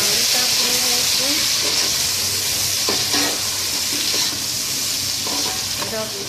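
Tomatoes sizzle as they fry in a pan with browned onions for chicken pulao, a steady close hiss with occasional stirring scrapes running throughout.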